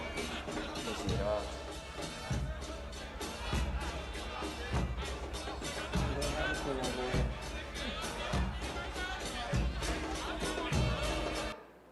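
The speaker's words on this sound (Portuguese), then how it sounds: "a torcida do Grêmio, não poderia ser diferente, entusiasmada, esperando aí para fazer a recepção ao Diego Tardelli" Grêmio football supporters gathered at an airport to welcome Diego Tardelli, a dense crowd roar with chanting and rhythmic beats or claps recurring steadily throughout, loud and continuous.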